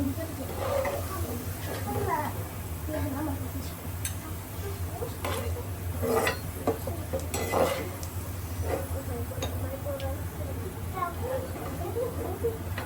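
Potatoes frying in hot oil for biryani, stirred now and then: a steady sizzle under close, irregular clinks and scrapes of a utensil against the pan, with a voice talking over it.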